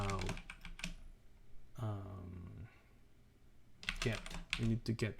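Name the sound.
typing on a computer keyboard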